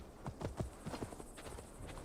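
Horse hooves clopping in Assassin's Creed Valhalla, a quick run of close, soft hoofbeats in an irregular trot rhythm over a steady low ambient bed.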